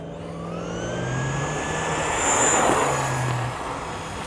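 A stock Traxxas Stampede 2WD RC truck races past at speed, its electric motor a loud rising and falling whine as it nears and pulls away, with no talk over it.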